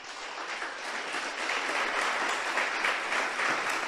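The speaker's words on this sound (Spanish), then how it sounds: "Dale un aplauso al Señor." A church congregation breaks into sustained applause, dense overlapping claps that build slightly in loudness and hold steady, with no speech over them.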